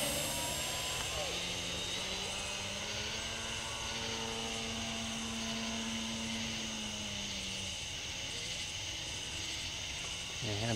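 A Senior Telemaster RC model airplane passes overhead at night, its propeller engine droning steadily with a slowly shifting pitch as it flies by, fairly loud and continuous with no talk.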